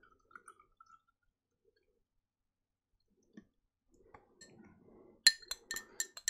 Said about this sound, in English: Then we pour some water in.